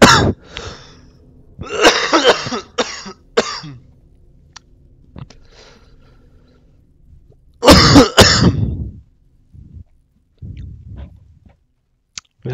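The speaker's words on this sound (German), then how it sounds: "Sonny hat einen kleinen Husten." A prisoner in the prison-management game Prison Architect coughs in several short, rough bursts, clustered at the start and again midway, separated by near silence with faint clicks.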